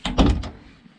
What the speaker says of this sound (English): And when I open the door,